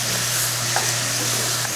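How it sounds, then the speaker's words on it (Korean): Glazed pork back ribs and shishito peppers stir-fry in a reducing sauce, giving a steady close sizzle and frying crackle with faint stirring scrapes throughout, no voices. "꽈리고추 모두 넣어주시고요, 함께 볶아주세요."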